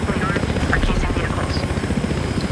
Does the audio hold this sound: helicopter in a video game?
yes